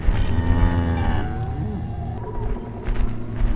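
Cow mooing in the horror game Zoonomaly, a long, loud, drawn-out bellow with a wavering pitch that fades into lower grunting moans, followed by a brief rumble near the end.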